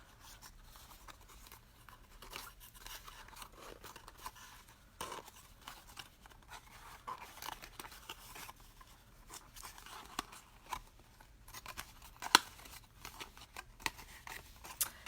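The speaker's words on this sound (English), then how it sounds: "I'm just going to fold on all the score lines" Paper for a spooky Halloween treat box is folded along its score lines, giving soft, faint crinkles and creasing rustles that run steadily with a few sharper crisp snaps near the end. No one speaks.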